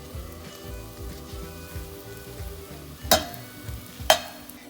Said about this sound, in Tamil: நல்லா ஃப்ரை பண்ணிக்கோங்க.